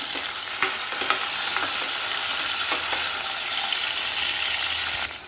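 Tomato stirred into brinjal curry frying in oil, a steady loud sizzle with a few scraping stir clicks from the spoon, no talking.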